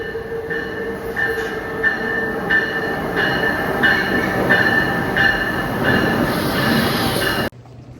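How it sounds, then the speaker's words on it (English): A train pulls into a station with a loud, close, steady rumble of wheels on rails and rhythmic clicking, sustained throughout before cutting off abruptly at the end. "Here comes the train."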